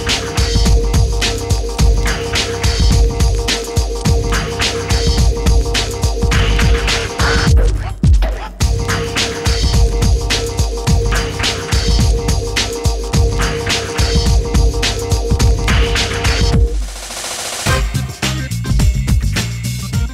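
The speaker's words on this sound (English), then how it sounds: "we're going to be putting the car on the dyno and we're going to be tuning it there" A Toyota Vios runs on a dyno with a loud, dense, steady engine drone and throbbing hum, broken by two short dips where the engine note briefly drops away before resuming.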